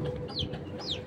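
A lost chick cheeps loudly in a garden, two high, sharp descending peeps about half a second apart, close by over a steady background murmur.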